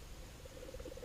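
Frog croaking at night near a dam at Pilar, Bohol, a steady run of close, pulsing calls over a low rumble of background noise, with no talk.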